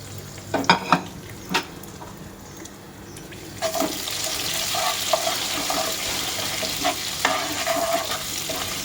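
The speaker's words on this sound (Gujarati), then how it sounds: "એને થોડું સંતળાવા દઈશું" Bay leaf, curry leaves and ginger-chili-garlic paste dropped into a pan, with a few sharp clinks and scrapes at first, then a loud continuous sizzle that swells and keeps hissing with occasional stirring knocks, close up, no talking.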